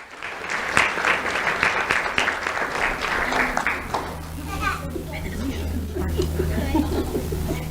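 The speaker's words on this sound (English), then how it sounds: "Let's have a round of applause for Hero Robertson." An audience at a sheriff's office awards ceremony applauds a student honoree. Dense clapping mixed with children's chatter lasts about four seconds, then gives way to voices talking.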